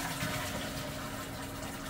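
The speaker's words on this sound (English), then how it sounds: "we're going to flush the loo." A close-coupled WC cistern, isolated at the supply pipe for an overhaul, flushes with a steady rush of water, broadband and continuous without any speech.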